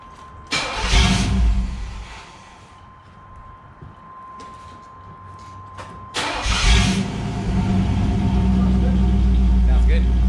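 A 1984 Camaro Z28 with a refurbished exhaust cranks and fires, settles into a rumbling idle, then is started again and runs steadily louder toward the end, with a person speaking over it.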